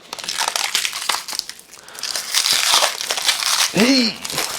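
Packaging for an XSPC Raystorm water block being ripped open by hand, loud crinkling and crushing plastic and cardboard in close, irregular bursts, with a voice briefly heard amid the tearing.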